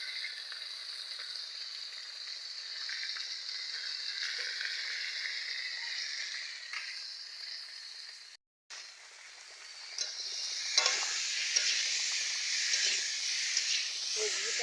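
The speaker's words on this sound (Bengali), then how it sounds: "সবজিটা কষে নিচ্ছি," Pumpkin vegetables sautéing in a pan beside a rohu fish curry, a continuous close hissing sizzle that briefly cuts out, then returns louder and more vigorous with scattered stir clicks.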